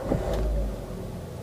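A 2010 Daihatsu Xenia 1300 with a manual gearbox cranks and fires up, a short loud burst of starter and engine catching, then settling into a steady idle, with no talking.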